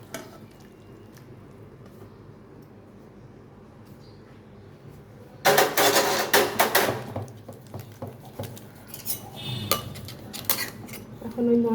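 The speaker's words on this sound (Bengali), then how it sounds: "এখন আমি এখানে শুক্তোটা মিশিয়ে দিচ্ছি।" Shukto vegetable curry is stirred in a metal pan: after a quiet, low-hum lead-in, a utensil clatters and scrapes loudly against the metal in a burst of clinks, then keeps up in irregular, sharper knocks.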